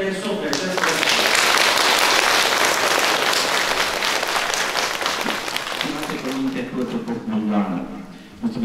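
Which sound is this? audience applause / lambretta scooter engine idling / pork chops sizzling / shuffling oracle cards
audience applause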